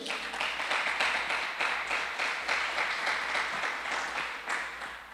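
A church congregation claps for several seconds in a soft, steady wave of applause, fairly distant and even, with no talking over it.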